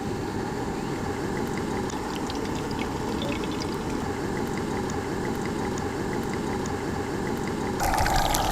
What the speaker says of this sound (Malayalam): ആദ്യം നമുക്ക് ഓയിൽ ഒഴിക്കാം.